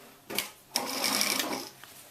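A sewing machine stitches a seam on hot pants in two close bursts: a short whir, a pause, then a longer steady run of rapid needle clatter that trails off.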